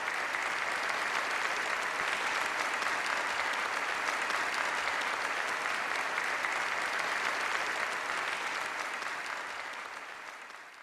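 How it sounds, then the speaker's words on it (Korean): Enthusiastic applause from banquet participants welcoming Kim Jong Un, Ri Sol Ju and President Moon Jae-in with his wife into a banquet hall: a dense, steady roar of clapping from a large crowd that holds throughout and tapers slightly at the end. "전체 참가자들은 열광적인 박수로 환영했습니다."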